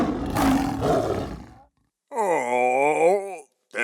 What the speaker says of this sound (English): The lion growled as if challenging the tiger.